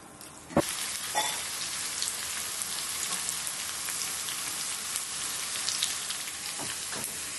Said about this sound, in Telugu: ఇలా ఇంకొంచెం ఎర్రగా ఎల్లిపాయలు 2 మగ్గాలి.